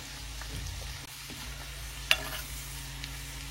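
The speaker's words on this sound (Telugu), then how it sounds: "వెల్లుల్లి కొంచెం ఫ్రై అయిన తర్వాత స్టవ్ ఆపేసుకోండి" Garlic cloves, dried red chillies and chana dal frying in hot oil, a soft continuous sizzle with one sharp clink of a utensil partway through, no talking.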